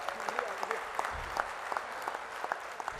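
Audience applause at a book launch event in Delhi, a dense, lively burst of clapping from a crowd lasting a few seconds, with distinct sharp claps scattered through the roar.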